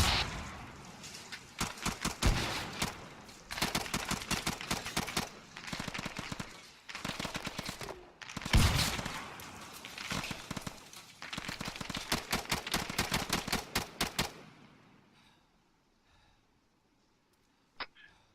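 Rapid gunfire crackles in a squad-based shooter game, long bursts of quick repeated shots with short pauses, fairly close, fading out into near silence at the end.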